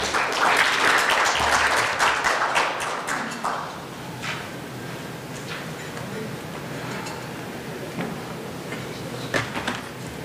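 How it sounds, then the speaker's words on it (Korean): Applause from an audience at a lecture forum welcomes the introducer, loud clapping at first that thins to scattered claps, thumps and taps before a few final claps. "우리 김종년 위원장님을 큰 박수로 환영해 주시기 바랍니다"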